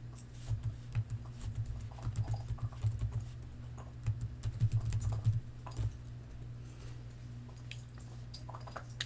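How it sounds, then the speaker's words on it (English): Keystrokes on a computer keyboard entering a spreadsheet formula, a steady patter of quick clicks in short bursts over a low background hum, close and fairly quiet, with no talking. "We're going to type average."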